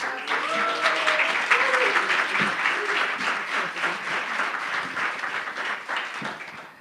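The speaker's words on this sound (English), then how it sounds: "please give a round of applause to this incredible woman" A large audience at an in-person newspaper convening breaks into sustained, dense applause that holds at a full level for several seconds, with a few voices and cheers rising faintly through the clapping.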